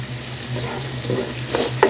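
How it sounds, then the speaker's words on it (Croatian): Two medium red onions fry in a pan for a chicken liver dish, with a steady close sizzle and soft stirring scrapes near the end. "Propržit ćemo luk."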